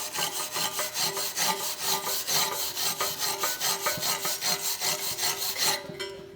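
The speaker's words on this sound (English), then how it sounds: "you are going to have to use the chipping hammer and wire brush it clean" Wire brush scrubbing a stick weld bead clean, a fast, even back-and-forth rasping with rhythmic strokes about three per second, loud and close, with no talking.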